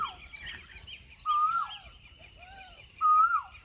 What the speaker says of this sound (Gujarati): આ બાજુ જો કોયલ પણ મસ્ત બોલે છે સવારમાં